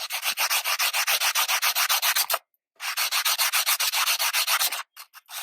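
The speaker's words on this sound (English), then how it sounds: "I'm just going to lay it down and just kind of sand it smooth." A silver dollar coin ring is sanded smooth by hand on the lightest side of a sanding block, giving steady, close, loud rhythmic back-and-forth rasping strokes, a brief pause midway, then more strokes ending in a few short ones.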